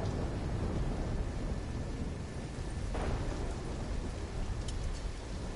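Steady heavy rain with a low thunder rumble in a video game storm, a continuous dense wash with one brief brighter burst midway, no talking.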